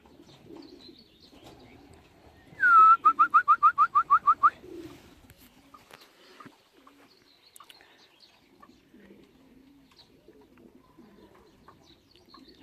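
A racing pigeon returning home from a 133 km race in Kalvarija gives a rapid burst of about a dozen loud, close, evenly spaced calls, then the yard goes quiet apart from faint background sounds.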